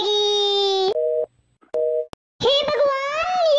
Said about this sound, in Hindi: मोदी चचा ने तो फोन ही काट दिया।